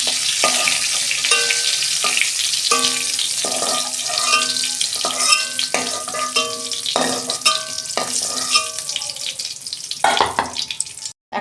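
Cauliflower pieces fry in oil in a pan with a steady close sizzle and hiss, broken by repeated clinks and scrapes of a utensil, no voices present.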